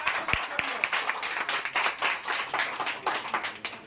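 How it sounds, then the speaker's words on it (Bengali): An audience at a jewellery shop's New Year lucky draw claps for the iPhone winner: a dense run of close, uneven handclaps throughout, with a voice faintly mixed in. "জোরে হাত তালি হয়ে যাবে"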